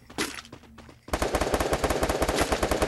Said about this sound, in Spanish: Hay alguien que está disparando, pero no sé de dónde está disparando.